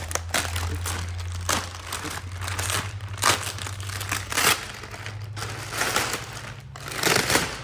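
Packing tape is pulled and torn off the box of a laser welder during unboxing, giving repeated close crackling rips and crinkles over a low steady hum.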